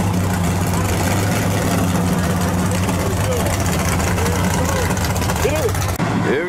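Drag race car engine roaring through a burnout at a grudge race, a loud continuous low drone with steady harmonic hum throughout, crowd noise and shouting voices over it, the pitch shifting near the end.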